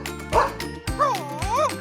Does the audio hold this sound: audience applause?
no